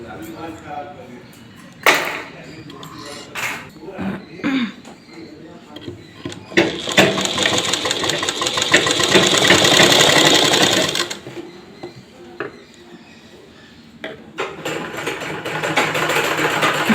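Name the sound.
sewing machine stitching a pant pocket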